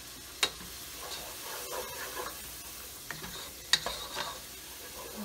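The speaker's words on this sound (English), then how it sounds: "I'm just gonna stir this some more." Ground turkey chili being stirred in a pot, a spoon scraping and clinking a few times over a soft, steady background hiss, close and fairly quiet with no talk.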